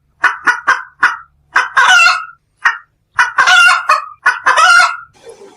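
Cartoon duck on a poultry farm honking in alarm, a rapid series of loud, sharp nasal honks in two bursts separated by a short gap, close and alone without talk.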